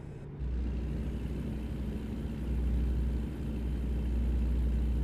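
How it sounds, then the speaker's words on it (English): A car overtakes a truck on a highway near Socorro in a truck-driving simulator game, heard as a steady, loud engine and road drone that swells slightly as it passes, with no talking. "Oh, now a car's going to pass me."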